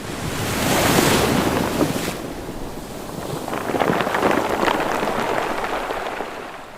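Ocean waves surge and wash in broad, steady swells, loud and close, with wind roaring across the microphone throughout and a second wave building toward the end.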